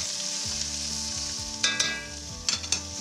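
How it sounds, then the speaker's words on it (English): Onions and garlic fry in lamb fat with a steady hiss, and a few scraping stirs stand out as brief louder bursts. Background music plays underneath. "we're going to add our onions and garlic and lightly fry until golden"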